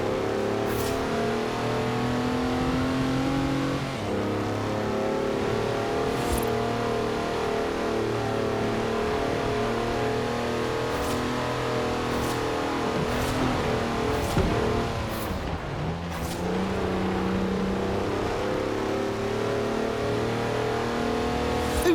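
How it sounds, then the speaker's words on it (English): A four-wheel drive car on mud tyres slides completely sideways in Forza Horizon 4, its engine droning and revving loud and steady throughout, with pitch dipping and surging as the throttle changes. "That's a 4-wheel drive car on mud tyres, completely sideways."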